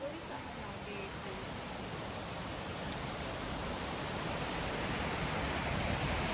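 Steady broadband roar of Pyalitan Falls in Maragusan, a dense, unbroken rush of falling water that holds at a constant, moderately loud level throughout, with faint voices briefly audible early on.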